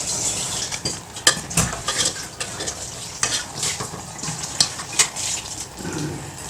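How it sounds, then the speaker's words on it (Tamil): Spinach greens cooking in a pot for palak keerai kadaiyal give off a loud, busy bubbling and simmering with irregular clinks of a spoon against the pot. "ஒரு 2 நிமிஷத்துக்கு கீரை இந்த மாதிரி கொதிச்சுட்டு இருந்ததுன்னா நல்லா கீரை வெந்துடும்."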